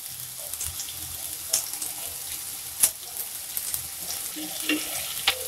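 Salted onions with curry leaves frying in oil for dondakaya curry give a close, steady sizzle, broken by stirring scrapes and a few sharp clinks from the spoon against the pan.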